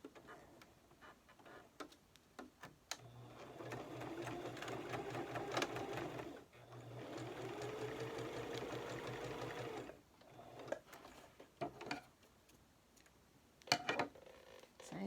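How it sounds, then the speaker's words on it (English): A sewing machine runs in two sustained bursts, stitching fabric a quarter inch from the edge with a steady rapid mechanical whir, quiet and close, with clicks and handling noises between runs. "I'm going to stitch that 1/4 of an inch from the edge just to keep it in place."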